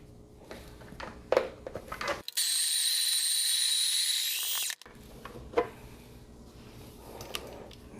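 A Breville Barista Pro's built-in grinder grinds 18 grams of coffee beans at grind size 5, a loud steady whirring burst of about two and a half seconds between quieter handling clicks and taps.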